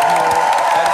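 Studio audience on a Tunisian Sunday TV show cheers and claps in a brief, loud burst of crowd noise with a steady tonal hum underneath.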